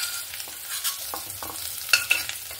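Potato and eggplant pieces sizzle in hot oil in a wok, with a steady crackle broken by scraping stirs and a few sharp clinks of the spatula.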